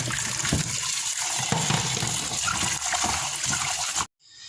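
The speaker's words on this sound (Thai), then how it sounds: "ล้างจนกว่าน้ำจะใสนะคะ ก็ค่อนข้างจะเปลืองน้ำนะคะ" Steady, full-bodied rush of running water while squid is washed until the water runs clear, a continuous splashing flow that cuts off abruptly near the end, with no speech.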